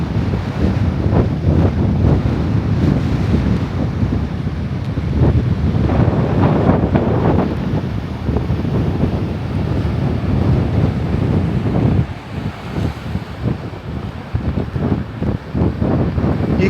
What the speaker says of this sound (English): You can tell it's a windy one today.